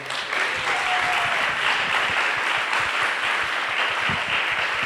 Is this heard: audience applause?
yes